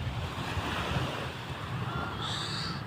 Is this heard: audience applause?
no